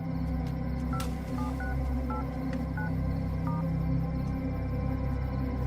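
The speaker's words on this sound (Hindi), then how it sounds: "सर एक फोन कर सकता हूँ क्या, बस एक फोन कॉल।" Telephone keypad dialing tones beep in a series of short, evenly spaced presses, moderately loud over a steady low hum of background noise, with no talking.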